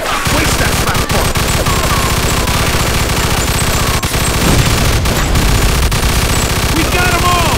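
Dense gunfire from a Mafia II shootout, rapid overlapping shots and bursts sounding close and loud, continuous throughout with a voice briefly audible underneath.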